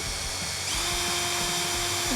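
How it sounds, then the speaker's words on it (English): A power drill fitted with an 11/64 drill bit drills steadily during a DIY submersible fishing light build, giving a close, continuous motorized whine that rises slightly partway through, with no talking. "we probably hear he's going, we can see he's drilling it in"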